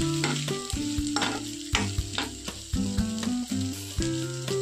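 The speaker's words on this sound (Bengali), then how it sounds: "খুব বেশি ভাজার দরকার নেই, ডিম দিয়ে হয়ে গিয়েছে।" Maggi noodles with egg sizzle and fry in a pan, a steady loud crackle broken by repeated scraping stirs and clinks of a utensil against the metal, with no talking.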